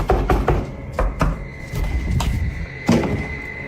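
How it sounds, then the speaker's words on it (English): Repeated heavy knocks thud in a room, irregular and loud, a cluster of quick raps early on followed by scattered single thumps, with nothing else heard. "this time with some annoying and incessant knocking"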